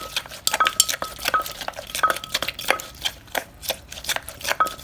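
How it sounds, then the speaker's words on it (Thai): Shrimp with sliced lime is tossed and stirred in fermented fish sauce in a bowl, giving continuous wet mixing and clinking of a utensil against the dish, close with no talk. "ก็จากนั้นก็คลุกค่ะ"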